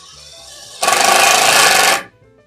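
A power drill bores a pilot hole into brittle cedar wood for a garage garden platform: one loud, steady, high-pitched whirring burst of about a second that stops abruptly, with no talk.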